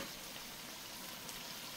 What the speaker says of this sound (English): let me get this garlic moved around in here